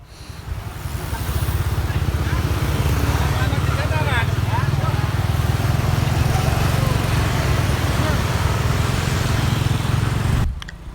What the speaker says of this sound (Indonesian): Dari sini terpantau dua pembalap naik motor boncengan ya.